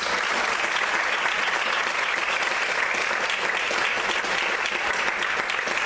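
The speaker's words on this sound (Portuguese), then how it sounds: "Você pode aplaudir o Senhor mais uma vez." Steady, dense applause from a large church congregation, continuous and even in loudness throughout with no voices standing out.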